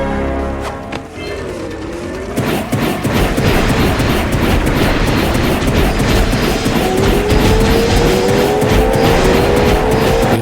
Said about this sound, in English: The sound of that engine revving.